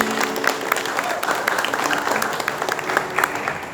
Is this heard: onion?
no